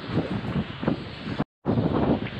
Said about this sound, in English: but it's really windy here